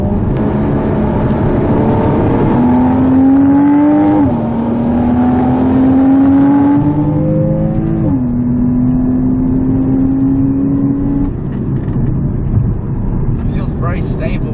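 A naturally aspirated 2016 Porsche Cayman engine pulls hard and loud, its tone climbing steadily through several rising stretches with sharp drops at each upshift, sustained and close throughout.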